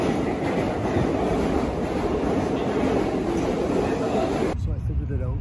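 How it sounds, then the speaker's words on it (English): A train pulls into a station in Japan, its wheels clattering loudly and steadily with a rumbling roar that cuts off near the end, leaving quieter platform ambience. "Train is coming."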